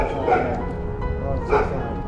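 A puppy gives two short, close whimpering yelps, with a steady low background hum under them.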